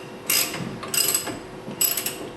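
A water softener media tank fitting is tightened by hand, giving three short bursts of ratcheting, threaded plastic clicks with brief pauses between them, close and fairly quiet.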